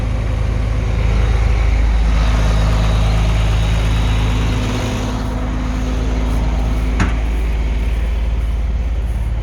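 A tractor engine runs continuously during hay baling: a loud, steady, close diesel drone with a low rumble that holds even throughout, with one brief faint click near the end.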